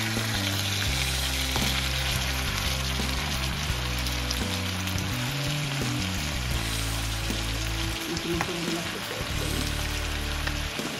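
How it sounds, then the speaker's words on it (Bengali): Chicken pieces frying in hot oil with onions in a home kitchen, a steady close sizzling crackle that runs the whole time over a low tonal background hum. "মুরগি তেলের মধ্যে পেঁয়াজের সাথে অলমোস্ট ভাজা হয়ে গেছে, আর একটু ভাজলে হয়ে যাবে"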